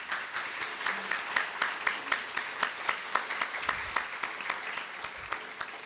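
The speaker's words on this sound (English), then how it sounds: "Could you all give them a round of applause?" A small audience applauds students at a TRIO Student Support Services event, the distinct claps sparse and individually audible at a moderate pace, with a faint murmur underneath.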